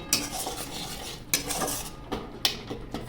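A spoon scraping and clinking against a pan on a low gas flame as sugar is stirred into oil for Bengali white chicken, several sharp metallic taps over a soft background sizzle.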